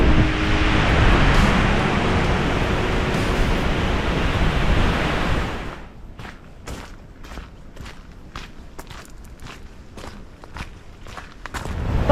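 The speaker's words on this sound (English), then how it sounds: "Very beautiful, big open surf beach." Big open surf on a stormy Pacific beach on the west coast roars as a loud, continuous wash of breaking waves, which drops away abruptly and leaves close footsteps crunching over quieter background.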